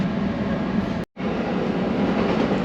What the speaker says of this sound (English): This Surfliner that passed us had an observation car as part of the train.